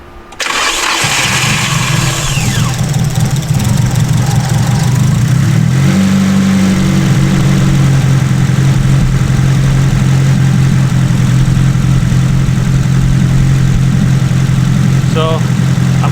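An SR20DET engine in an S13 chassis, running lean with no fuel pressure, cranks and catches, then settles into a loud, close, steady idle with a low rumble that holds for the rest of the clip.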